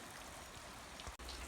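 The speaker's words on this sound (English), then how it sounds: "Well, it's still raining" Light rain falls outdoors in a steady, soft hiss with no distinct drops, close and continuous at a farm tractor repair spot, with no one talking.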